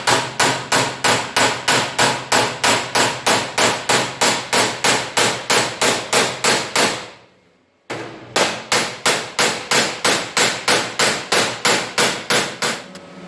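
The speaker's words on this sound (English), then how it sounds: "So I'll get the hammer now and start hammering all this down and get this done." Loud, rapid hammer blows on welded metal of a door ring out in a steady rhythm, pausing briefly for about a second before resuming at the same fast pace.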